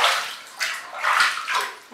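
Water splashes onto a Maine Coon cat being bathed in a tub, several close, bursty sloshing pours in quick succession with no speech.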